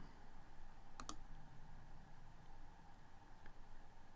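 Two quick, soft mouse clicks sound close in a quiet room, with a faint steady hiss behind them and nothing else.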